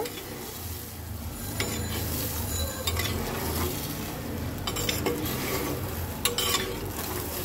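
Fish curry (koi fish) with cauliflower, new potatoes and peas is stirred in a pot after water is added, giving a steady wet simmering rustle with occasional scrapes and clinks of the spoon against the pot, close by and continuous.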